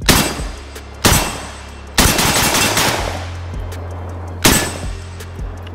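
A PSA AK-47 GF3 forged rifle fires at metal targets outdoors in loud, close bursts and single shots, about four sharp blasts with ringing, decaying echoes between them.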